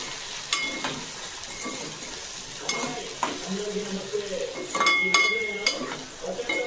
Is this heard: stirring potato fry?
yes